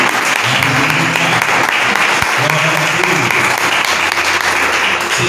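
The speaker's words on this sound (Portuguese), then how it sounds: "Você pode dar uma salva de palmas." A church congregation applauding during a Sunday worship service, dense sustained clapping filling the room at close range for several seconds.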